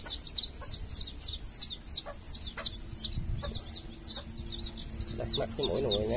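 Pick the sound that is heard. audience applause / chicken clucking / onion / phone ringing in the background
chicken clucking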